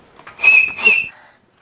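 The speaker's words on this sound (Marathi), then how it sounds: "शिट्टी कोणी वाजवली" Two short, shrill whistle blasts in quick succession, close and loud, with a faint voice murmuring softly beneath.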